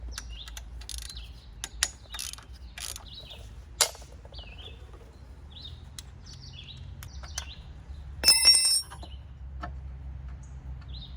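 A ratchet loosens 13mm bolts on the power steering pump of a BMW E30 convertible with an M20 engine: scattered clicks, then one short, loud burst of rapid ratcheting near the end, with birds chirping faintly behind.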